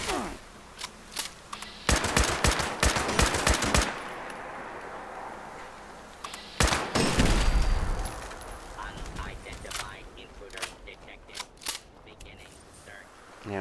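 Rifle fire in the video game Fallout 76, with bursts of sharp, rapid shots in clusters separated by pauses, mixed with game sounds and some talk.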